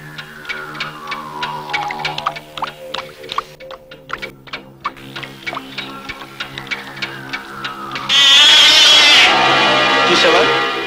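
A cat in a comedy film scene gives drawn-out, falling meows among light tapping sounds, followed by a sudden loud burst of noise near the end.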